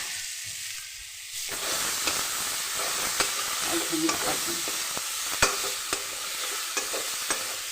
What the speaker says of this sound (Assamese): সেয়া আলু বিলাহী ভাজি দিছোঁ